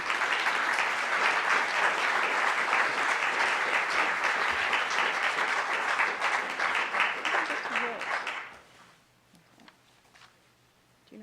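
An audience at a curator talk on Isamu Noguchi applauds to welcome the speaker, with loud sustained clapping that fades out after about eight seconds into quiet room sound.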